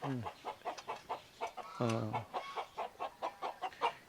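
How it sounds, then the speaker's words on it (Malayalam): A black Karinkozhi chicken on a farm clucks in a quick, regular series of short bursts, with one longer drawn-out call in the middle, close and clear with little else around. "ഇത് കരിങ്കോഴി അല്ലയോ കരിങ്കോഴി ആണാന്നല്ലേ"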